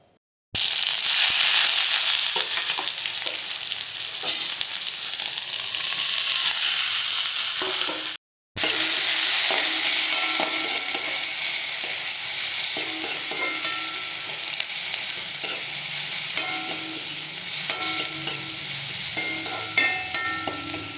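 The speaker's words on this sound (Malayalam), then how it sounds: "കടുക് പൊട്ടി വന്നതിന് ശേഷം അരിഞ്ഞു വെച്ച സവാള, പച്ചമുളക്, ഇഞ്ചി, വെളുത്തുള്ളി ഇതെല്ലാം അതിലേക്ക് ഇട്ട് കൊടുക്കാം." Chopped onion, green chilli, ginger and garlic fry in hot oil with popped mustard seeds in a pan for a green peas curry, a steady loud sizzle with scraping stirring throughout, briefly cut near the middle.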